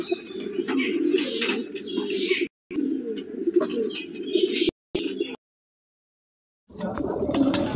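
Old-lineage Giribaj pigeons coo loudly and close in overlapping low throbbing calls with chirps above, broken by abrupt gaps of silence.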